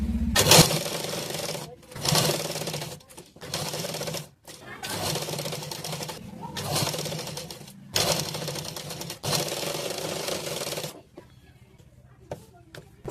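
Sewing machine stitching a blouse in short bursts of rapid mechanical clatter separated by brief pauses, close and loud, with someone talking between runs.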